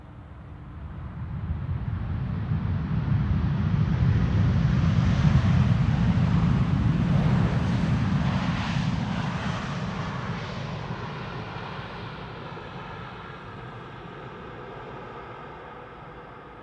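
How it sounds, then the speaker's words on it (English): A KLM Boeing 787-10 Dreamliner lands at Schiphol. Its jet engine roar swells to a broad, loud rumble around the middle and then slowly fades as it rolls away, with no talk over it. "The 787-10 Dreamliner is about to touch down."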